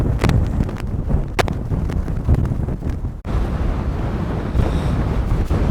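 Strong wind buffets the microphone at Snow Canyon State Park, Utah, a steady, loud roaring rumble with gusty surges and a brief lull midway, with no one talking.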